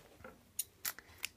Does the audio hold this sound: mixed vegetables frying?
no